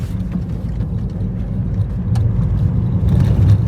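A Ford Freestyle BS4 diesel engine idles quietly and steadily, a low, even rumble with faint whirring on top and no voices.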